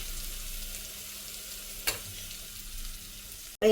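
Uttapam batter with green chili and onion sizzles quietly on a pan, a soft steady frying hiss with one brief scrape midway and a sudden clatter at the end.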